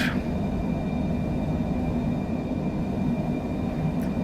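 A Citation Longitude business jet takes off in Microsoft Flight Simulator, its engines producing a loud, steady roar and rumble with a thin whine above it, continuous and close, with no speech.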